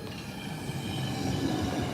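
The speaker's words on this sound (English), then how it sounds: "here comes this old model of a train, an RAE 450 dual composition" An old Swiss RAe 450 double-composition train rolls past nearby as a continuous, broad rumbling roar with faint wheel squeal and clatter, steady in loudness throughout.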